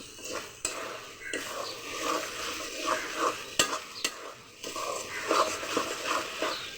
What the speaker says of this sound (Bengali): কষতে করতে হবে মাংস মশলা।